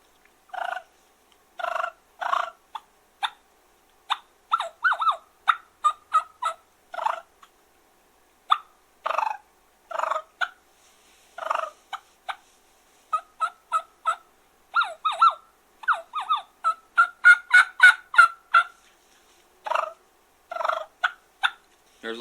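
A split V-cut mouth diaphragm turkey call imitating clucking and purring, sharp repeated clucks in uneven bursts that quicken into rolling purr-like runs, loud and close with silent gaps between.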